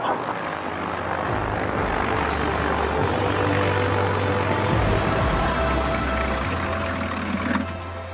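An Airbus Beluga transport plane taxis onto an airport apron to park, its engines producing a loud, steady roar with a low droning hum throughout, fading slightly at the end.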